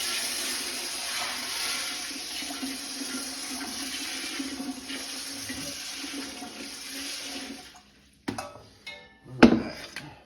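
Five quarts of water poured into a pot holding four pounds of corn for cooking grain spawn, a steady close rushing stream for about eight seconds, then a pause and a couple of short splashes.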